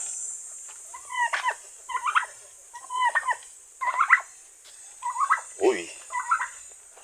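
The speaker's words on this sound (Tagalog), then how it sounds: "Tingnan natin ang ating pabo." Farm turkeys call in a series of short warbling, gobble-like bursts, about eight in a row at moderate distance, with a steady high insect-like hiss in the background and no talking.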